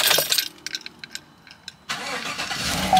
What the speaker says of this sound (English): And the truck should crank on.